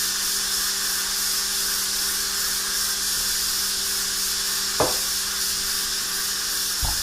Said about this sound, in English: stops pouring out like that, then we know it's safe to open the pressure cooker.